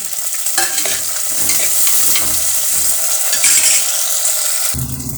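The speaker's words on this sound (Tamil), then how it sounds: "சின்ன வெங்காயம் பூண்டு தட்டு வதக்கணும்" Shallots and garlic sauté in a clay pot, a continuous crackling sizzle with repeated scraping stirs against the earthenware, close and fairly loud, ending with a brief clatter.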